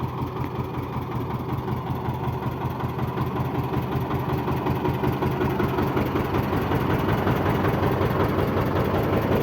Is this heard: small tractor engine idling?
yes